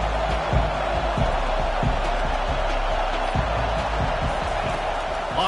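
A home crowd roars in a college football stadium during a South Carolina versus Tennessee game, a dense, steady wash of cheering with scattered claps and thumps throughout.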